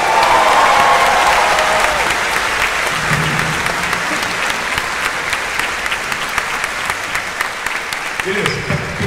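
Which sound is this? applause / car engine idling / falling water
applause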